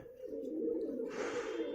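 Pigeons kept by their owner coo in a low, steady, continuous murmur close by, with a brief faint higher sound partway through and no speech.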